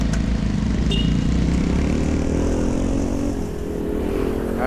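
Motorcycle engine running on a city road in traffic, a close, loud low rumble that holds steady and then eases slightly near the end.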